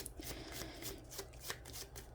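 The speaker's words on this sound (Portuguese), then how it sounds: "a gente vai tirar aqui com os arcanos menores do Tarot del Fuego" Minor arcana cards from a Tarot del Fuego deck being shuffled for a reading, heard close up as a quiet, rapid run of papery riffling and flicking over two seconds.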